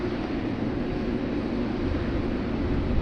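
Garuda 777 or Qantas Freight 767 airliner at Sydney Airport, a steady distant jet roar with a broad rushing hiss that holds constant throughout.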